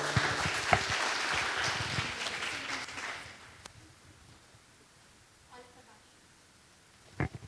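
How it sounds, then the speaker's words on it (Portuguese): A church congregation claps and cheers for about three seconds, then the applause fades into quiet room tone, with a speaker's voice heard around it. "Vamos aplaudir aqui, gente"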